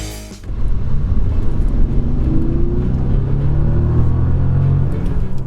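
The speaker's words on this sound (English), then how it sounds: "this car is powered by a 6-litre twin turbocharged" A Bentley Continental GT's 6-litre twin-turbocharged engine rumbles deeply and steadily after a brief initial noise, its low drone rising slightly as it accelerates.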